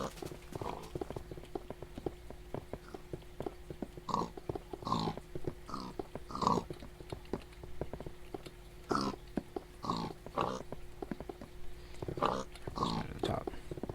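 Minecraft pigs give a string of short oinks and grunts, spaced irregularly at moderate distance over a low steady hum.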